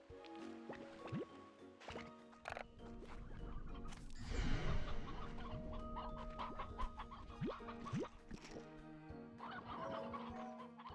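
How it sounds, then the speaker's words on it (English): Chickens cluck in the video game Slime Rancher 2, soft clucks scattered among squishy, dripping slime sounds, chimes and other game effects. The mix is layered and fairly quiet, with no talking. "Evil chickens. The chickens have turned evil."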